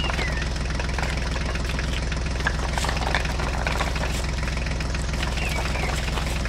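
A mini tractor engine idles nearby with a steady, low, even chugging throb that holds unchanged throughout, with no talk over it.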